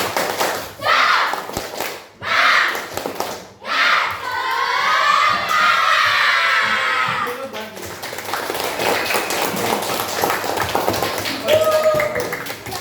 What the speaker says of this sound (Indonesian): Bisa ditirukan? Lima harus kencang ya. Tepuk semangat.